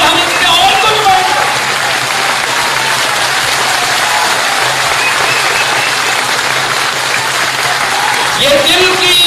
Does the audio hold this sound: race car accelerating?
no